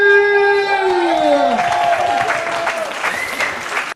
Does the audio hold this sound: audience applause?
yes